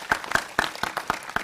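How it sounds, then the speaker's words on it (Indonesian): Sparse clapping from an audience at an Islamic talk, about six distinct claps at a slow, even rhythm, fairly close and moderately loud, with no voices. "Tepuk tangan untuk PSHT ya Allah"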